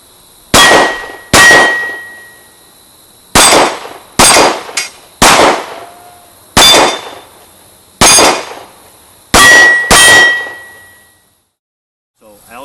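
Bullets from a Para Black Ops Recon .45 ACP pistol strike steel targets, giving about ten sharp ringing clangs in irregular pairs and singles, each with a short metallic decay, loud and with no talking.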